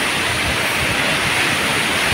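Jogini waterfall near Manali roars as a steady, loud, broadband rush of falling water, continuous and close with no pauses or other sounds.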